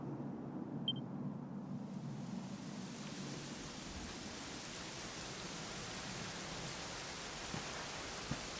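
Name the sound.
rain in the video game Dragon Quest 11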